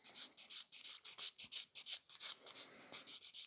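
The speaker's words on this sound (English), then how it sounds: "So just grab the buffer and scratch it." Nail buffer scratched rapidly back and forth across a false nail tip, a quiet, close series of about twenty even rubbing strokes with no talk.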